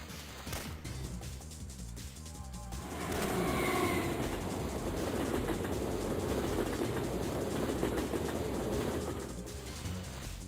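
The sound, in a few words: train passing in Syphon Filter video game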